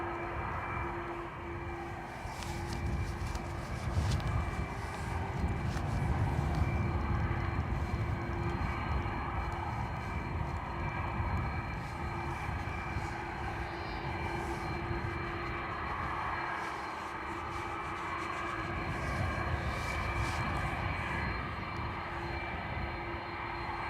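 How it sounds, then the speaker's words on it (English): Aer Lingus Airbus A330 bound for Boston at Dublin Airport, its engines a loud, steady broadband roar with a low rumble that holds throughout, swelling slightly partway and staying constant near the listener. "This Aer Lingus A330 going to be heading to Boston."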